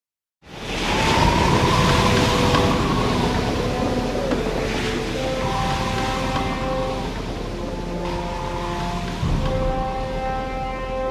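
Steady roar of ocean wind and rushing waves at sea around a sailing vessel under full sail, continuous and loud with faint tonal whistling layered over the broad wash.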